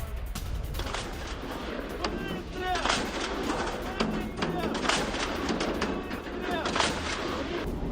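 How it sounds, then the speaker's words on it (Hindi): Russian S-60 anti-aircraft gun artillery shelling a Ukrainian base, heard as a continuous barrage of loud, closely spaced gunshots and booms that repeat steadily throughout, dense and reverberant with no pauses. "रूस की आर्टिलरी यूनिट का बड़ा हमला, ब्रेक करिए। S-60 तोप से यूक्रेनी बेस पर निशाना साधा गया।"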